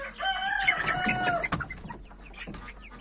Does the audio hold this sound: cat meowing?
no